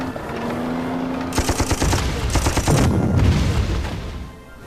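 Artillery firing in the WWII strategy video game Panzer Corps, a 25-pounder battery: a rapid run of sharp repeated blasts in two clusters, loud and close, with booming low rumble trailing off at the end.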